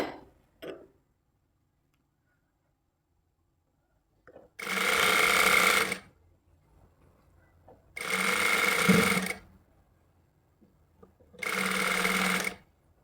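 A sewing machine stitches the sleeve seam of a shirt in three separate runs of a few seconds each, loud and close, with near-silent pauses between them.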